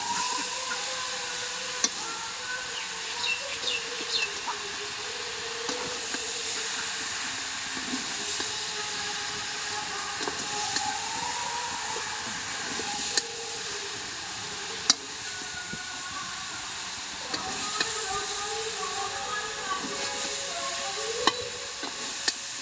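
Steady sizzling and hissing from a pan as food is sautéed and stirred, a continuous bright frying sound with occasional small clicks and scrapes throughout.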